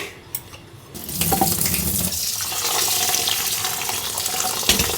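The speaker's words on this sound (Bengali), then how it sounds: "ভালো করে এখন চালটা ধুয়ে একবারে" Tap water gushes steadily into a bowl of rice being washed for khichuri, starting after a short quiet moment with a few clinks, then running loud and close to the end.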